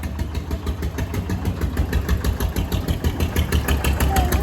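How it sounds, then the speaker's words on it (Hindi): A tractor engine rumbles steadily through a village street, a continuous low, knocking drone that grows slightly louder toward the end, suggesting it is drawing nearer. "वो देख ट्रैक्टर आ गया, चल जरा।"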